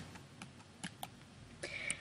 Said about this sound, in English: use the keyboard shortcut Alt and the down key and hit it about 3 times